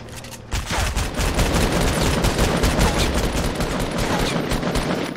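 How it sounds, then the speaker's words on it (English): Fortnite gunfire in a 50v50 match: dense, continuous rapid shooting from several weapons that keeps going for about five seconds, loud and close. "what are you shooting at?"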